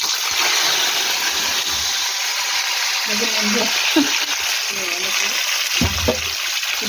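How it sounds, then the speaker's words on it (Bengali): Black cumin seeds sizzling in hot oil in a pan, a steady bright hiss filling the scene from near, with a few low clinks and stirring sounds and soft talk underneath. "কালো জিরা ফোড়ন দিয়ে দিলাম।"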